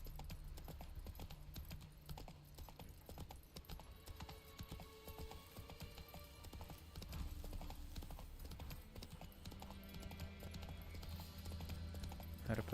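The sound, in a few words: horse Roach hooves trotting in video game The Witcher 3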